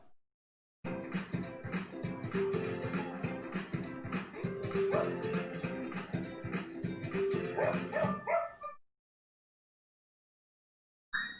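A Dogue de Bordeaux barks repeatedly in a steady run of close, moderately loud barks, with a brief break before the sound stops.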